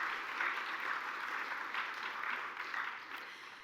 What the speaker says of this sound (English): So you can give them a round of applause too.